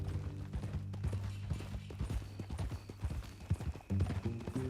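Horse hooves clip-clop at a steady walking pace in Red Dead Redemption 2, fairly quiet and layered over a low sustained musical drone.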